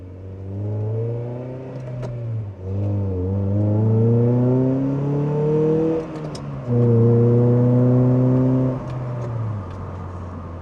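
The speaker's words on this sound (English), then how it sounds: "maybe you guys can hear the exhaust a little bit." A Honda Prelude engine revs up and down in several rising and falling pulls, a loud nearby exhaust drone with brief dips between revs.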